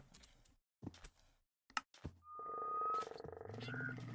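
Rain frogs in a video game give a few short, separate croaks, then a longer sustained trilling call with layered tones, all fairly quiet.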